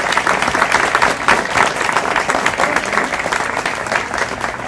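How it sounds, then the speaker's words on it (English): Loud audience applause for parks department staff at a nature center event, dense sustained clapping from a crowd filling the whole stretch with no talk over it. "Let's give them a round of applause."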